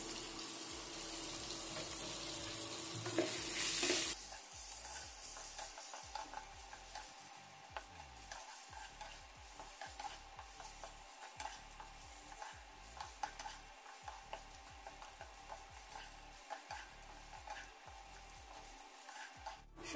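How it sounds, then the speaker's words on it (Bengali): Soya chunks fry in oil with a soft sizzle while a utensil scrapes and stirs in irregular bursts, close by; a louder hissing rush opens the sequence before settling into quieter stirring, with no one speaking. "তেলের মধ্যে সয়াবিনগুলো দিয়ে ভেজে নেব।"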